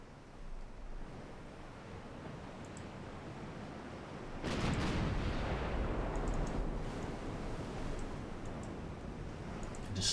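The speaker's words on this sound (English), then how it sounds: "open fire, armor-piercing rounds." Heavy warship gun salvo in the naval battle game Ultimate Admiral Dreadnoughts, firing armor-piercing rounds: a sudden loud boom partway through, then a long rumbling roar over steady wind-and-sea noise.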